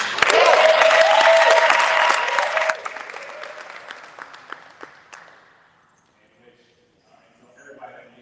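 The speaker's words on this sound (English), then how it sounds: "Give Gathering for Justice a round of applause." Audience applause and cheering at a #RadicalReadz evening event honoring Gathering for Justice, loud and dense at first with whoops, then thinning to scattered claps and fading out.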